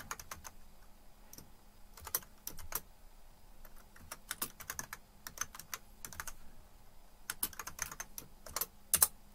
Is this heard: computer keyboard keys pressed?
yes